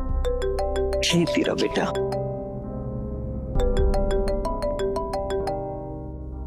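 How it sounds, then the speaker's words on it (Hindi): A phone ringtone plays a repeating electronic melody, loud and close. It pauses briefly while someone speaks, then resumes. "अरे फोन बज रहा है"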